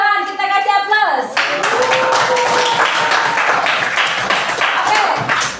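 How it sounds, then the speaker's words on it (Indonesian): A classroom of students breaks into scattered applause just after a teacher speaks. The hand claps are close and busy for several seconds, mixed with voices. "kita kasih aplaus"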